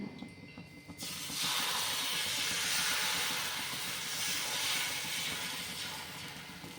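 Kumbakonam-style rava dosa batter hits a hot griddle. A quiet moment gives way to a sudden loud, sustained hiss and sizzle that carries on steadily to the end.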